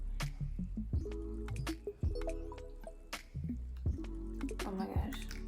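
The Ordinary peel solution drips and squishes in faint, irregular wet ticks and soft smacks, close up and quiet, over a low background hum.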